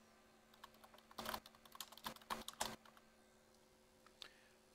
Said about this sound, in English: What I'm doing is just typing in Google search.